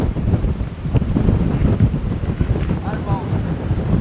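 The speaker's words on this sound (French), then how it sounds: "Oh, il y a du vent, hein." Strong wind buffets the microphone in continuous rough gusts, with a faint whistling tone briefly rising partway through.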